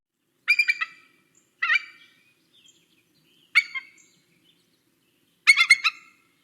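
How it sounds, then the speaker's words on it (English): An eagle gives four bursts of high chittering calls, each a quick run of piercing notes separated by silence, clear and fairly close with nothing else around. "This is the eagle."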